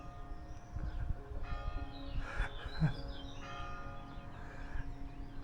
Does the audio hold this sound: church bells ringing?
yes